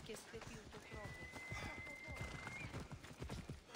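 Hooves clip-clop rapidly as a horse gallops up in Assassin's Creed Odyssey, with a brief whinny mixed in, while a person talks over the near, rhythmic hoofbeats.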